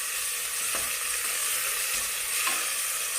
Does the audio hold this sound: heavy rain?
no